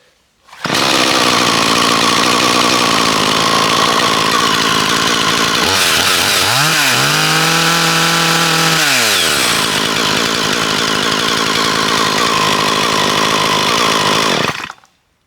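A chainsaw, primed with choke out, roars loudly and continuously at close range, dipping briefly into a lower idle around the middle before revving back up to full speed until it cuts off.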